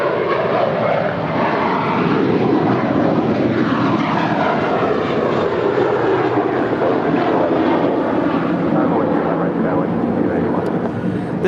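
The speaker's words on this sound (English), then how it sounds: "This is Material Girl departing to Newark Liberty with JetBlue, flight 1874, an Airbus A321." A JetBlue Airbus A321 departs LAX on flight 1874 to Newark, its jet engines a loud, continuous broadband roar that holds steady throughout with no voices over it.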